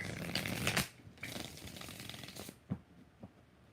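A deck of tarot cards is shuffled close up: a run of rapid riffling flutters, then several shorter shuffles and a few soft taps, with no talk.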